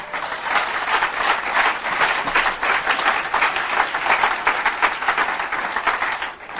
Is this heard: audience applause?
yes